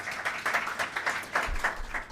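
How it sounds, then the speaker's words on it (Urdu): A short burst of applause from a studio audience at a Rabi-ul-Awwal special television program, with rhythmic clapping that swells and fades over about two seconds and faint talk underneath. "تالیاں ہونی چاہیے جی۔"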